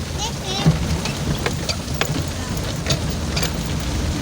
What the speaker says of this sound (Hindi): इसकी आगे आवाज़ सुने कि कितनी तेज़ बारिश हो रही है।